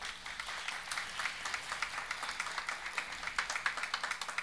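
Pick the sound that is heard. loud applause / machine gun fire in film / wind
loud applause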